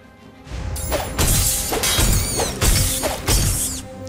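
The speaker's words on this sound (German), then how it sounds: "Dann benutzen wir erstmal die zerbrochene Flasche." Glass shatters several times in quick succession as a broken bottle is used as a weapon in South Park: The Stick of Truth, loud crashing bursts layered with game music and effects.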